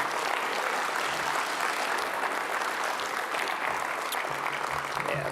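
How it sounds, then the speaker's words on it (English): Sustained applause from an audience at the Plastics Hall of Fame awards ceremony, a steady dense patter of clapping hands that continues without pause, loud and even throughout. "everybody that just got applauded certainly deserves it, but let's give a hand to Maureen Steinwall for all she does."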